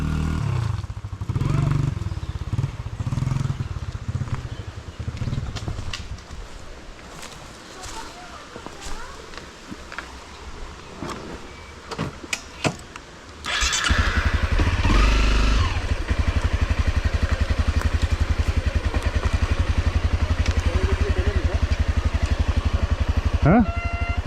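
Off-road motorcycle on the İnönü plateau, its engine idling and rattling under people talking before it revs up into a loud, sustained drone that holds close by to the end.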